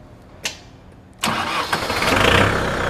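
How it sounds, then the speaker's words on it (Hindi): A Kubota MU 4501 4WD tractor engine cranks after a short click, then catches and settles into a loud, close, steadily building diesel rumble. "तो जैसे कि आप देख सकते हैं ट्रैक्टर स्टार्ट हो गया है"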